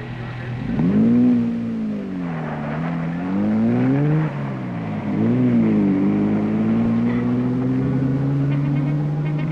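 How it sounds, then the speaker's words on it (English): Big rally cars, including a Peugeot, roar in one after another, engines droning loudly and rising and falling in pitch as they accelerate and pass close by, with steady engine noise throughout. "The remaining big cars start to arrive thanks to some magnificent driving by their crews"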